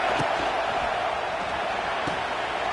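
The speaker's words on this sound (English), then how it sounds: "It's early, but this crowd is fired up." College football stadium crowd roaring early in the game, a dense continuous wash of cheering and noise with no pauses, loud and enveloping.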